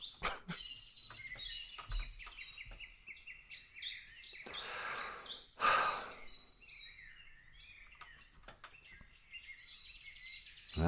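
Several birds chirp and tweet outdoors in quick, overlapping high calls, fairly close, with a few breathy sighs or sniffs from a nearby person and occasional bumps between them.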